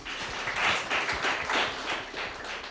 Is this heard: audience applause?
yes